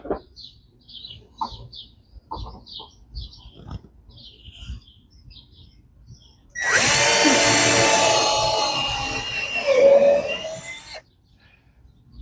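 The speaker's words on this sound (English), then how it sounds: "So you want to pre-drill or you're going to potentially crack your lumber." A power drill with a countersink bit pre-drills into old, dried-out shed lumber, a loud close whirring bore of about four seconds rising in strain near the end, following quieter outdoor sounds with chirping birds.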